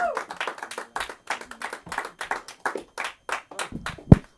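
A small open mic crowd claps for comedian Julio Lemus, the claps sparse and uneven and close by, ending in one sharp loud slap.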